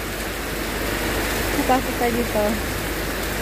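Steady rain pours down in the Philippines, a broad wash of falling water with a gutter nearby, while people speak over it at close range.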